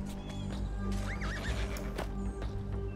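Horses in the fantasy strategy game Fantasy General II neigh in a loud, rising whinny. Clip-clop hoofbeats and battle effects run under it throughout, with no talking.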